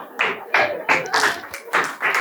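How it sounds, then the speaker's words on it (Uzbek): A studio audience at a comedy oral-exam quiz show claps in quick, evenly spaced bursts, a steady rhythmic patter of hands with no voices over it. "Qarsaklar."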